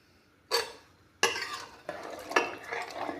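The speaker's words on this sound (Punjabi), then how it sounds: "ਪਾਣੀ ਪਾ ਕੇ ਚੰਗੀ ਤਰ੍ਹਾਂ ਮਿਕਸ ਕਰ ਦਾਂਗੇ" Dal and vegetables with added water stirred in a pot with a ladle, four scraping, sloshing strokes at uneven intervals, close and moderately loud, each fading into wet churning.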